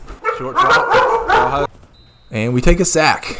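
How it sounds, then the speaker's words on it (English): Dogs bark intermittently in the background behind an American college football broadcast voice calling a triple-overtime play involving Ohio, with the play-by-play talk dominating. "Sorry for the dogs barking in the background."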